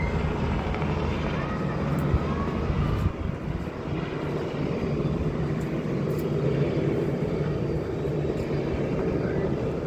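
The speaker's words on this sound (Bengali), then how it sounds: "হেলিকপ্টার" Over a rooftop garden in Bangladesh, a helicopter drones steadily and loudly as it flies overhead, its broad rumbling wash continuous and unbroken throughout.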